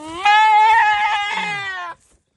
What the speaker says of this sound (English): All these goats around.